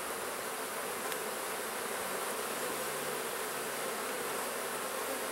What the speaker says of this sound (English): So far these bees are behaving themselves.